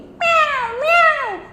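A human voice imitates a cat, producing one clear, loud, drawn-out meow with a rising then falling pitch, close to the microphone.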